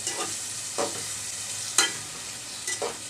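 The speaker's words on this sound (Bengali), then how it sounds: "আগে দুই মিনিট একটু আলু আর মসুর ডাল মাছের সাথে কষিয়ে নিচ্ছি" Potatoes and masoor dal are sautéed with fish in a pan, producing a low continuous sizzle broken by a few sharp spatula strokes at irregular intervals; no voices.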